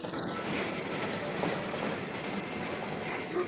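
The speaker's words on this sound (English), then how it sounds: "Trains below us." A train rumbles past below the listener, a steady broad roar with faint clacking that holds an even level throughout, heard from some distance with no talking.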